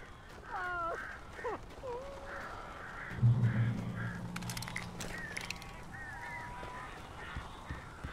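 Crows caw in Alan Wake, several harsh calls early on, then repeated ones scattered through a game scene, with a low droning sound and crackly noise midway.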